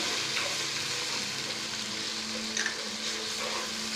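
Cumin seeds sizzle in hot oil alongside garlic and ginger for a mutton yakhni pulao, a steady close crackling fry holding level throughout with a brief louder spatter near the end and no talk.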